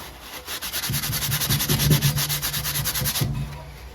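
Rag wiping spilled grease off a Bolens Snowcaster 32 Model 18514 snowblower, a close rhythmic rubbing and scrubbing that runs steadily for a few seconds with no talk.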